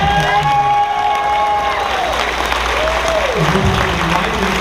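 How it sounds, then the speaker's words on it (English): A convention closing-ceremony crowd applauds and cheers steadily for Alkali, dense clapping sustained throughout with a few raised voices and whistle-like tones over the top. "Big round of applause for Alkali."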